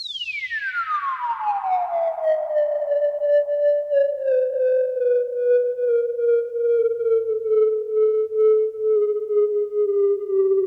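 Synth pad note on a Novation Peak that swoops sharply down in pitch and settles into a long, steady, pure tone, ending in a sustained bong with faint overtones, loud and alone.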